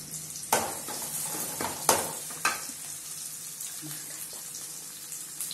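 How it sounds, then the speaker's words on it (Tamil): Oil crackles and sizzles in a kadai as chopped onions fry for fish curry, with a few sharp clatters of the spoon stirring them, fairly close. "அந்த வெங்காயத்தை வந்து என்ன பண்ணுறோன்னா இப்போ போட்டாச்சு அந்த கடாயில்."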